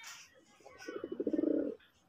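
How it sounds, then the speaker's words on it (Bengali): A pair of sky-blue Golla pigeons coos close by, a soft rolling burst of throaty notes that swells and then stops, preceded by faint background chatter. "অসাধারণ এক জোড়া কবুতর।"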